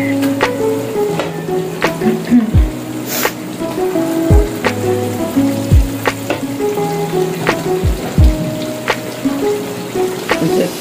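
Kebabs fry loudly in a masala-coated pan, a dense, close sizzle broken by occasional sharp pops and stirring clunks, with no voices.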